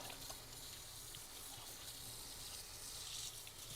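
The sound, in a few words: rinsing hands under running tap water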